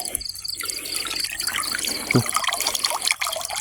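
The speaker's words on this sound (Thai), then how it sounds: "ผมไปเทน้ำกันครับ" Water is poured out in a continuous splashing trickle nearby, with insects chirping faintly in the background at a shrimp-catching spot.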